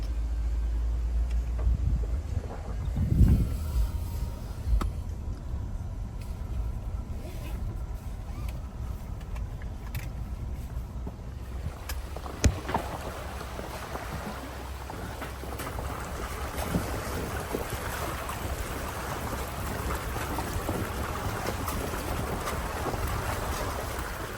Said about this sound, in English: Shane has to take this tundra truck through this creek